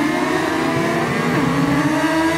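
Motorcycle engine in the RIDE 5 racing game on a wet Le Mans circuit, revving loud and close with shifting pitch as gears change, continuous and alone with no talk.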